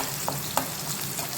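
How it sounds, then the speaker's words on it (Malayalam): Shallots and green chillies fry with mustard seeds and curry leaves for pappadam thoran, a steady close sizzle with two brief stirring clicks and no talk. "നല്ലോണം ഫ്രൈ ചെയ്തെടുക്കുക."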